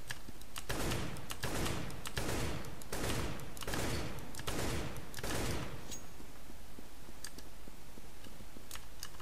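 Rifle gunfire in CS:GO, fired in several rapid bursts and sprays, loud and close, followed by scattered lighter clicks and quieter game sounds.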